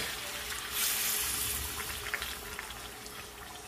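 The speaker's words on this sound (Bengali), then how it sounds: "এখন একটু পানি দিয়ে মাংসটাকে কষিয়ে নেব" Water poured into a pan of frying chicken, giving a loud broadband hissing rush for about a second that eases into a steadier, quieter sizzle.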